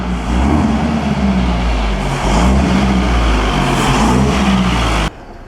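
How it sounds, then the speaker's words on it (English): A classic car's V8 engine revs loudly and steadily at a concours d'elegance car show, its deep rumble sustained for about five seconds before cutting off abruptly. "Boy, that V8 sounds marvelous."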